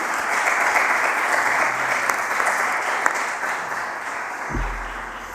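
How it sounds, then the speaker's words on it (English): Sustained applause from an audience at a young forest researchers' annual meeting, steady and fairly loud throughout, clapping for the speakers at the close of a session before a low thump near the end. "So I want to give an applause to all the speakers."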